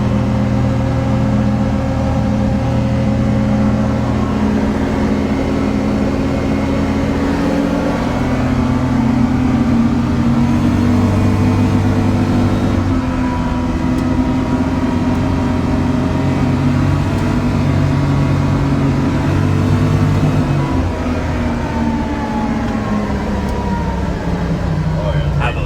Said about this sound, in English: Let's go windows up so we can hear some cab noise.